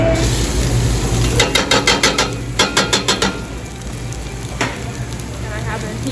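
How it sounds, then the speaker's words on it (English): Carrots and garlic sizzle in hot oil in a culinary classroom kitchen, a steady frying hiss broken by a run of sharp rhythmic clacks from a utensil on the pan, then a lone knock near the end. "Okay, so now my oil is hot. I'm gonna go ahead and add in the carrots and garlic mixture first."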